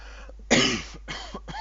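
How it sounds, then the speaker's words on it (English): A single sharp, close cough bursts out, followed by quieter breathy throat sounds. "I seem to have a cough"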